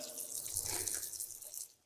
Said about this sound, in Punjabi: ਇਹਦੇ ਚ ਜਿਹੜਾ ਪਾਣੀ ਹੈ ਇਹ ਪਾਣੀ ਵੀ ਵਾਟਰ ਬਾਕਸ ਦਾ ਆ ਰਿਹਾ ਕਮੇਟੀ ਦਾ ਪਾਣੀ ਹੈ